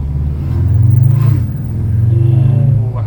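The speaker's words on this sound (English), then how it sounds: "Oh my god, those pops." A 2023 VW Tiguan R in R mode gives a deep, loud exhaust rumble that swells as it revs, with a few short crackling pops on the overrun, heard from inside the cabin.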